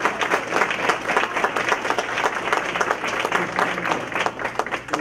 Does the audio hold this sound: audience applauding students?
yes